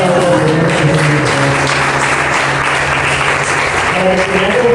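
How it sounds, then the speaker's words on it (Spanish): A church congregation applauds together in a dense, sustained burst of clapping that stays loud and even from start to finish. "De los aplausos al Señor Jesucristo."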